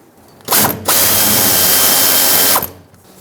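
A power tool driving an 8mm socket whirs loudly in two close bursts, a brief one then a longer steady spin, while loosening hose clamps on the filler neck of a 1999-2007 Ford F-350.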